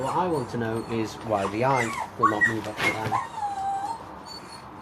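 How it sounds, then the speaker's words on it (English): A dog whimpers and whines in high, wavering cries close by, partly under a man's speech. "And that's my dog crying away."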